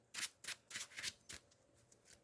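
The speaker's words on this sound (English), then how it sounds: "give it one more shuffle" A deck of Marvel Champions game cards is shuffled by hand at a table, producing a run of five or six crisp papery bursts in quick succession, then fading into quieter rustling.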